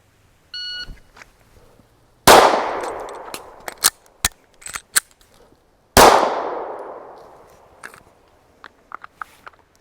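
Two loud pistol shots from a Zev Z320 X Compact fired at targets, each a sharp crack with a long ringing tail, followed by scattered metallic clangs of steel targets being hit, with a faint beep before the first shot.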